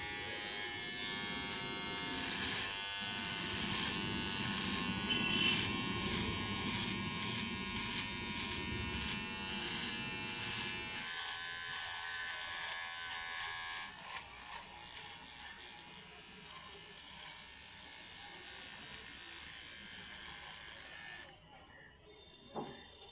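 A battery-powered electric trimmer buzzes steadily and close during grooming, its high whine holding for most of the stretch before weakening and cutting out near the end as the battery runs flat.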